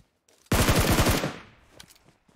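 A loud, close burst of rapid automatic gunfire in PUBG Mobile, about a second of quick repeated shots, trailing off into faint scattered echoes.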